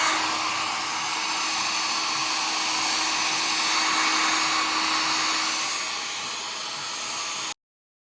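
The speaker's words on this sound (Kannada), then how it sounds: "ಡ್ರೈಯರ್ ಹಾಕಿ ಸೆಟ್ ಮಾಡಿದ್ರಿಂದ ಚೆನ್ನಾಗಿದೆಯಾ ಬಿಡು" Hair dryer blowing on freshly washed hair at home, a loud steady whooshing roar with a faint motor whine that holds for about seven seconds before cutting off abruptly, no voices.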